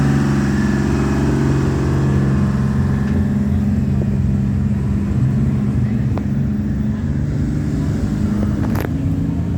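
Muscle cars idle at an Australia Day car parade in Hastings, a steady low engine rumble holding throughout at close range, with faint voices in the background.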